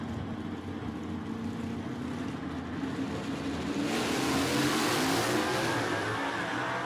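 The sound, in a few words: drag race launch of a 67 Camaro and 66 Mustang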